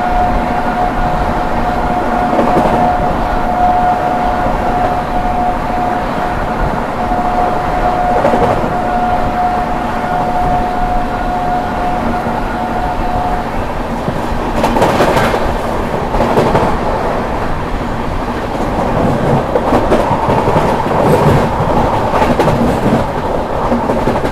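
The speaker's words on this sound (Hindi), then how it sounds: "ट्रेन अपनी स्किप करने जा रही है हमारी" The Prayagraj - New Delhi Humsafar Express running at speed past Dadri, a loud sustained rumble and rush of wheels on rails with scattered clicks and a steady tone that fades midway, no talk.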